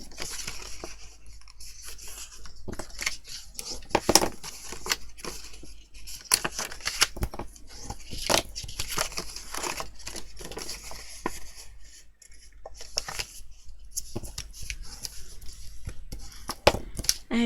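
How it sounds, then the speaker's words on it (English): A scored card envelope is folded by hand at close range, giving a run of crisp paper creases, rustles and taps in uneven bursts, with short quiet gaps between folds. "all we do is just fold everything down"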